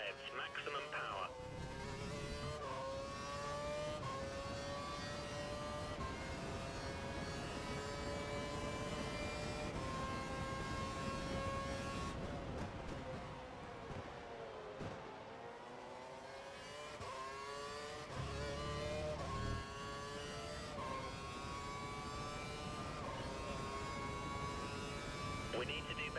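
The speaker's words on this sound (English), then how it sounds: "It looks like the car ahead is trying to create a gap. He's running full revs, maximum power." F1 car engines screaming at full revs in F1 2012 at Malaysia, a high whining tone that climbs and drops through gear changes with several cars passing, loud and continuous, with a voice talking over it at times.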